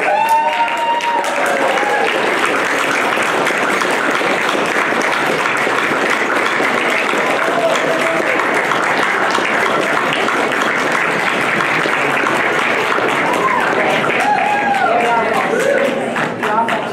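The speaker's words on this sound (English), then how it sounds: "I would ask you to give a great big hand of applause for Ross Lowry" Audience applause at an art prize ceremony, a dense, sustained wash of clapping from a crowd that carries steadily for the whole stretch, with faint voices and a cheer or two mixed in.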